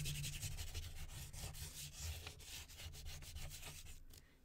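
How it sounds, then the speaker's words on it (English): Ordinary children's chalk rubbed over a watercolor painting: continuous soft, gritty scraping strokes in a loose back-and-forth rhythm, close and quiet with no voices. "standard kids chalk that breaks. So I'm just rubbing it on the areas where there is the black showing through."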